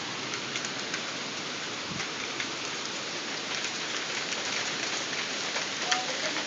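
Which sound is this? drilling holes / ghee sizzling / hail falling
hail falling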